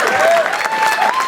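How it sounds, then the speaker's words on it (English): A convention crowd applauds the governor in a short, steady burst of clapping, with a sustained musical tone carrying over it. "Let's give another round of applause"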